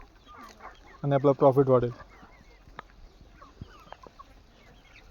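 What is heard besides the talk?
country chickens clucking on a poultry farm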